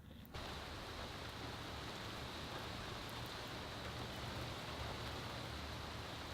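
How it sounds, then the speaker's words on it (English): Steady rain falling outdoors, a dense even hiss that starts abruptly after a short quiet moment and holds at a constant level throughout, with no voices. "So got out of there just in time before the rain hit."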